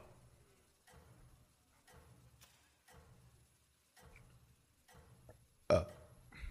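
Repeated burps, about seven in a slow regular series roughly once a second, close and fairly quiet, ending with a sharp louder noise.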